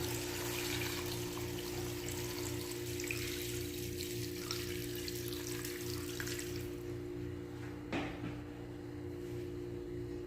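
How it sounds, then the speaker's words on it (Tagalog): Water is poured into a cooking pot of chicken tinola with papaya and ground pepper, a continuous splashing pour over a steady kitchen hum that tapers off toward the end. "At lagyan natin ng tubig mga ka-recipe."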